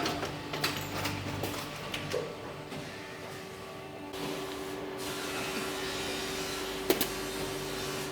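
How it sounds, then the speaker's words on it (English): A glue-applying machine in an Italian shoe factory works along shoe edges with a continuous mechanical whir and hum, broken by a few short clicks and knocks. "This machine is used to apply glue to the edges of the shoe"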